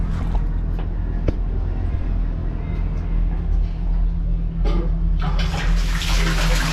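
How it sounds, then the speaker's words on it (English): Fresh water pumped continuously into a live bait tank on a custom fishing boat, a steady rushing wash with low pump hum, growing brighter and louder in the last couple of seconds as the flow starts. "it's an artificial tide with fresh water being pumped all the time"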